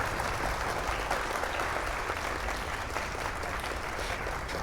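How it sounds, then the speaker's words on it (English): Steady, dense applause fills the whole stretch at moderate level, with no talk over it, celebrating a success in the game Starfield. "Applause for the gods of computer games."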